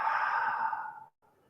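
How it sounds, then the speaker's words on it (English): A single slow breath pushed out through the mouth during a relaxed yoga session, a soft airy sigh that fades over about a second, followed by a brief faint trailing breath. "Maybe exhale through the mouth"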